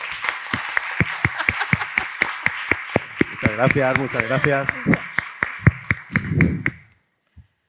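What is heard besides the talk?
audience applause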